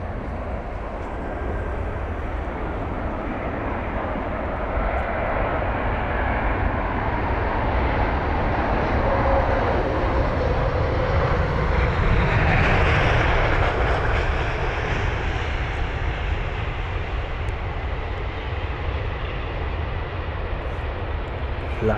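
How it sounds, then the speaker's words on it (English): An Airbus A380 jet takes off on runway 27 right at Heathrow Airport, a loud, sustained engine roar that swells to a peak midway and then slowly fades, with no talk over it. "The Airbus A380 with the Reg Golf X-Ray Lima Echo Hotel, a 9-year-old A380 registered in May 2014."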